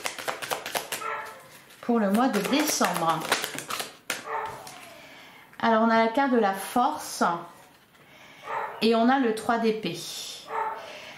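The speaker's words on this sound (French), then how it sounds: "je suis désolée si vous entendez mon chien qui s'est mis à aboyer." A pet dog barks repeatedly indoors, sharp close yaps in bursts over someone speaking French.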